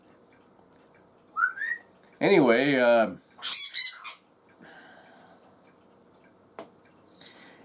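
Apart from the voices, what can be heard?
pet bird squawking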